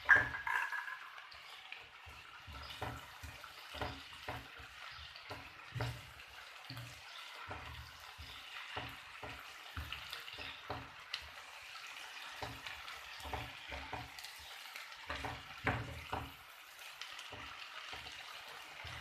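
Garlic-ginger paste with onions sizzles and bubbles in a pan, with a steady frying hiss broken by irregular stirring scrapes and spatters, loud at first and then settling, with no talking.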